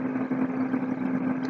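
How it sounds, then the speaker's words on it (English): Forced-air home heating system running as a steady, quiet mechanical hum with a constant low drone and soft airy rush, unchanging throughout and with no voices. "that noise you hear in the background, my heat just came on. It's noisy"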